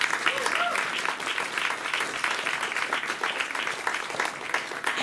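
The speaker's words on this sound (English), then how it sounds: "One round of applause to the lovely audience." Steady, dense applause from a large theatre audience, continuous and loud throughout, with no individual voices standing out.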